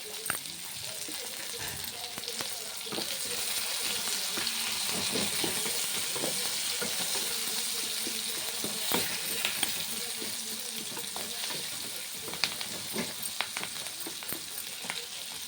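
Curry leaves and onions frying in a pan, a soft continuous sizzle with scattered crackles and pops and a few sharper ticks, moderately quiet and close, with no clear talking.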